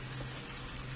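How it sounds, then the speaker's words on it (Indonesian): Bakwan, Indonesian vegetable fritters, frying in hot oil give off a dense, continuous sizzle and crackle, close and steady with a low hum underneath. "ini kita akan memulai menggoreng bakwannya"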